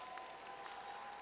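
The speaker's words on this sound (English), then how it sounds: "Somebody clap your hands and give God praise." A church congregation clapping together during a worship service, a faint steady patter of many hands sustained throughout with a thin tonal hum beneath.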